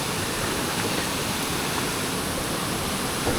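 Floodwater from a small brook swollen into a forceful torrent rushes without a break, loud and close. It forms a dense, steady roar that fills the whole clip with no voices.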